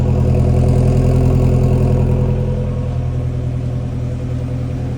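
A first-generation Mazdaspeed 3 with a Corksport downpipe and HKS exhaust idles with a steady, deep, loud rumble close up, easing slightly toward the end, with no talking.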